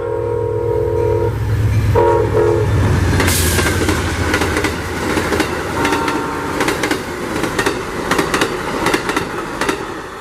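Amtrak 91 passenger train in Central Florida rumbles past with a loud, sustained horn blast at the start, then clattering wheels and rail noise fill the rest.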